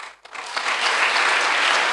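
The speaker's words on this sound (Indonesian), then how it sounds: "Tepuk tangan buat Tuhan." Congregation applauding at an evening revival service, a dense wash of clapping that starts after a brief pause and swells into sustained, loud applause.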